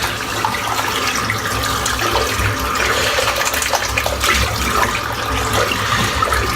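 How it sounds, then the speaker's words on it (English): Steady running water rinses shaving soap away, a continuous close rush of tap water that holds at an even level with no talking. "Rinse off the soap."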